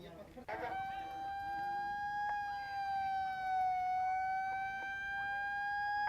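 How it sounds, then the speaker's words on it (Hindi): Police sirens wail steadily in the distance during a violent protest in Patna, a sustained rising and falling tone carrying over faint street noise. "पुलिस की गाड़ियों की सायरन की आवाजें आपको सुनाई दे रही होंगी"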